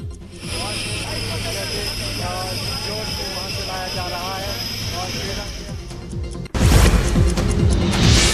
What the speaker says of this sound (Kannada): ನಾಪತ್ತೆಯಾದವರಿಗಾಗಿ ಹೆಲಿಕಾಪ್ಟರ್ಗಳ ಮೂಲಕ ಸೇನೆ ಮತ್ತು ಎನ್ಡಿಆರ್ಎಫ್ ಶೋಧವನ ನಡೆಸ್ತಾ ಇದೆ